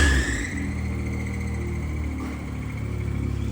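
A Suzuki Alto Works engine holds a steady, close rev with a continuous tonal whine running over it, from a suspected failing alternator, with no voices present.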